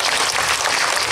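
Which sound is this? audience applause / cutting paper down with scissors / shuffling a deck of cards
audience applause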